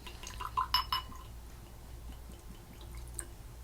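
Compass Box Hedonism whisky is poured into a glass, with a few bright, close clinks and a brief trickle of liquid early on, then only a quiet room.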